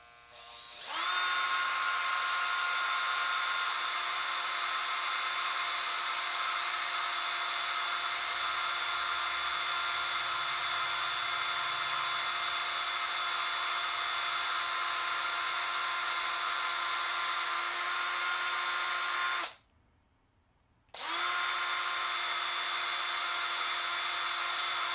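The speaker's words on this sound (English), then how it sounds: "Clean out my drill bit, drill the Fox body." A power drill bores steadily into a Hot Wheels Fox body toy car, a loud sustained high-pitched whine that runs for about twenty seconds, cuts out briefly, then starts up again.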